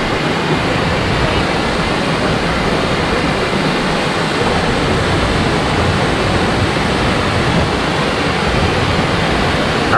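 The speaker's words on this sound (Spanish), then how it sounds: "es una linda cascada, me gusta mucho" A waterfall in Córdoba, Argentina pours with a loud, dense, unbroken roar of rushing water that stays steady and close from start to finish, with no voices over it.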